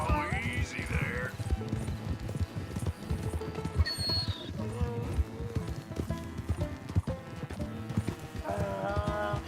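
Hooves of a donkey in Red Dead Redemption 2 clip-clop in a steady rhythm close by, with brief animal calls and someone talking over the footsteps.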